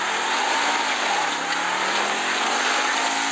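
An imported car's engine roars steadily in a GTA roleplay game, a loud, continuous drone that holds for several seconds with no voices.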